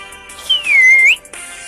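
A single clear whistled note from a person, swooping down and then quickly back up, fairly loud against a steady background hum.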